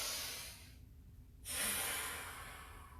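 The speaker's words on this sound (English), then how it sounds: "Breathe in through your nose." Breath drawn in through the nose during a gentle Qigong-style exercise session, a soft airy inhalation that swells after a brief quiet gap, close and alone with no talking.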